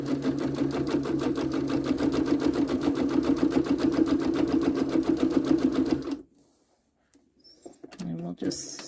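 A sewing machine stitches a holiday garland in a fast, steady mechanical whir for about six seconds, then stops abruptly, followed by near silence and a short voice.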